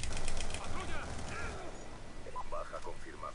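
Rapid gunfire in the Black Ops 2 video game crackles loudly in a burst at the start, then fades under excited Spanish voices as scattered mechanical clicks continue.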